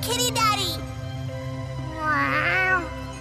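A cat meows in the video game Tales of Xillia 2, giving two drawn-out, whiny calls over steady game music, the second rising and falling more slowly.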